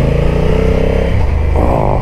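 A 2022 Honda NT1100 motorcycle engine pulling at low revs, a loud, close, steady throbbing drone that shifts pitch as it climbs, heard alone.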